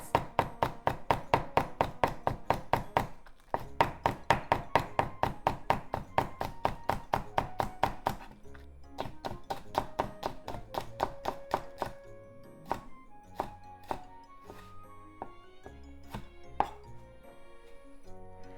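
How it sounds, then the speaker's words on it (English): A knife chops the green part of a leek into thin slices on a cutting board, a quick steady run of close, crisp taps that later turn slower and more spaced out. "green part of the leek. Let's just make it into thin slices."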